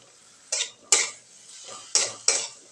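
Onion and tomato roast in a pan while a utensil scrapes and knocks against it, five sharp clinks in an uneven rhythm over a faint low sizzle, close and alone.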